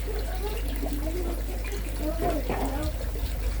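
Water drains out of a fish tank in a steady trickling, gurgling stream under a constant low hum, with a voice talking over it.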